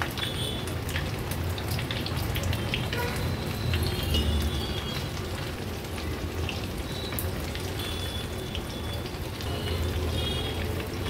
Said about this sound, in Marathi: थोडी थोडी करून अर्धी भजी आपण तेलामध्ये सोडली आहे।